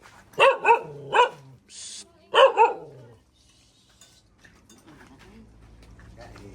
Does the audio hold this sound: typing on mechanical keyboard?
no